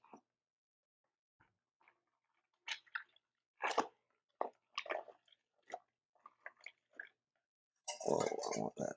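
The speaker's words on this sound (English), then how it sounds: "Okay, now all we have to do is just start processing. And you'll see the tomato sauce start to come out." Tomatoes are pushed through a strainer to make spaghetti sauce, giving wet squishing and crunching bursts in an irregular rhythm, close and moderately loud, ending in a denser grinding surge.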